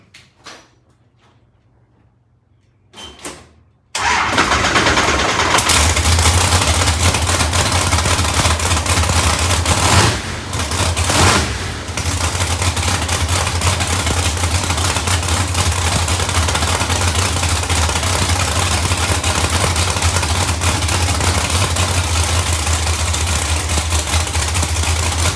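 A ProCharged F3 supercharged GTO engine sits on its two-step launch limiter after a brief quiet start, holding a loud, steady, crackling high-rev drone for over twenty seconds with a short dip midway.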